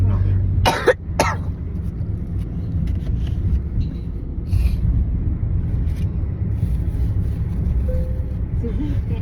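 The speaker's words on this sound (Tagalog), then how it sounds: "Talagang inuubo po ako." A person coughs twice in quick, harsh bursts near the start, close by, then quieter rustling and low background rumble follow.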